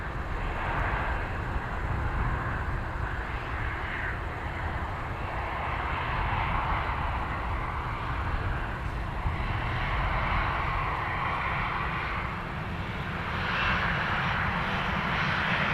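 A Ryanair airliner at Dublin Airport roars steadily and loudly throughout, a sustained broadband jet engine rumble with no break.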